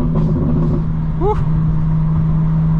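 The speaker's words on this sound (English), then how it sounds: "Loving that all-wheel drive sport Burble" A 2025 BMW M4 Competition xDrive rumbles steadily with a low exhaust burble while driving, a constant engine drone heard from inside the car, with some faint speech-like sounds over it.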